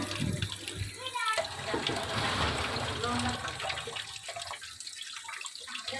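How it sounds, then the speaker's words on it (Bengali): Water splashes and runs while raw chicken meat is washed several times before cooking, a close, continuous pouring and sloshing with some variation in intensity. "এরপর বেশ কয়েকবার ভালোভাবে ধুয়ে পরিষ্কার করে রান্নার জন্য প্রস্তুত করা হলো"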